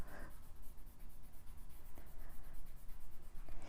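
Graphite pencil rubbing and smudging across paper while shading a kawaii manga-style Princess Zelda drawing, a steady close scratchy rustle with small strokes throughout.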